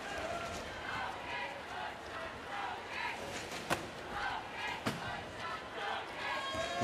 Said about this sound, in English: You can hear the Germans in the crowd shouting, "Auf geht's Deutschland," let's go Germany